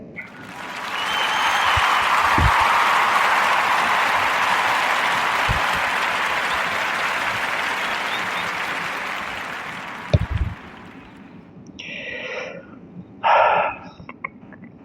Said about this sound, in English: So warm round of applause for that.